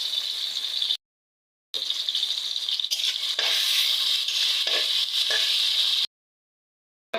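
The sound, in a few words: onions frying in oil in a wok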